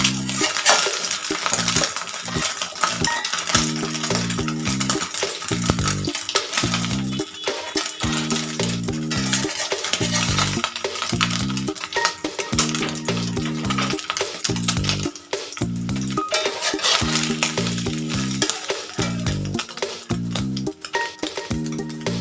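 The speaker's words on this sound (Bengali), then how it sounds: "একটুখানি তেল ছিটে পড়ছে" Egg frying in hot oil in a pan for an egg burger gives off a steady crackling sizzle with small splatters. Rhythmic rattling and scraping of the pan and utensil carry on throughout.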